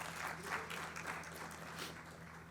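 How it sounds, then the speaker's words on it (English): Audience applause at a legacy summit gathering, a steady dense patter of many hands clapping at moderate level throughout, with a faint low hum underneath. "So let's give them a round of applause again."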